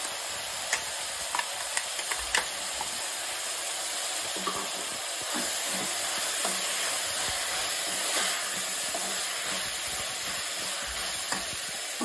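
Ground masala paste for vegetable pulav fries in a pan, giving a continuous soft sizzle and hiss broken by scattered scraping taps of stirring, with no talking.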